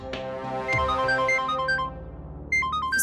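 A mobile phone ringtone plays a bright electronic melody of repeating beeping tones over a low sustained backing, fairly close and clear with no voices, a brief pause then resuming near the end.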